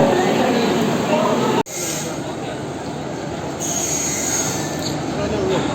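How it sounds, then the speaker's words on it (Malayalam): A train rolls in loudly with high, sustained wheel squeal and rumbling rail noise, a sharp brief dropout partway through. "അങ്ങനെ നമ്മുടെ ട്രെയിൻ വന്നെത്തി."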